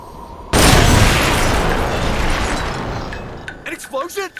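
A loud in-game explosion from Metal Gear Solid Peace Walker bursts in suddenly and its roar decays slowly over several seconds, then a voice speaks briefly at the end.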